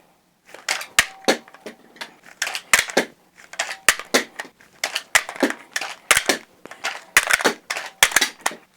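Repeated pistol magazine reloads at a shooting range: a busy run of sharp metallic clicks, snaps and clacks in quick irregular bursts, close and crisp, with no talking over them.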